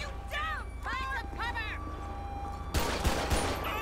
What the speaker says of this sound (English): Yo, this guy was just shooting straight at me.